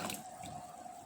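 Water runs from a tap into a vessel holding washed elephant foot yam in a Kerala home kitchen, a short, faint trickle and drip with no talk.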